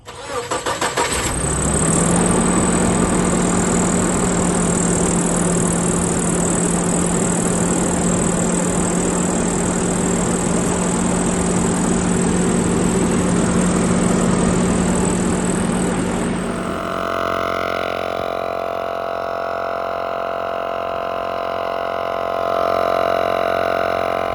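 Engine of a Nissan Hardbody pickup truck running steadily while cruising, a loud continuous drone with a sustained hum that shifts to a lower, smoother tone partway through.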